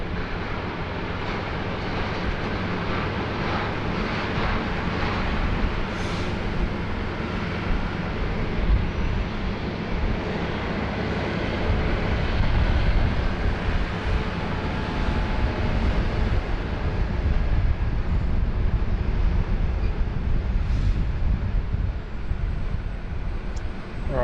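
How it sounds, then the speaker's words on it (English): Qantas airliner rolling down the runway for takeoff, a continuous distant rumbling roar that builds gradually louder toward the end, heard alone with no talk. "Qantas 7581 now rolling down 3-4 left."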